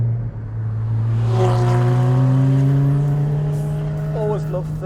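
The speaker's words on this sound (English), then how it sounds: "Always love third gear in the 981 because it just gives you that down low growl." Ninemeister Porsche 981 GT4 flat-six engine in third gear gives a deep, loud, close growl that rises steadily as the car accelerates, with a faint voice near the end.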